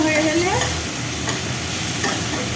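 Masala for butter chicken sizzles loudly in a pan while it is stirred, with a steady frying hiss and a few scraping strokes of the spoon.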